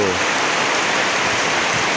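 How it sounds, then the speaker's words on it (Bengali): Steady monsoon rain pouring down outside a village home, a dense, even hiss of drops on surfaces that stays loud and unbroken throughout, with no voices. "আকাশের গুড়গুড়ি ডাক, বৃষ্টির ছলো ছলো শব্দ"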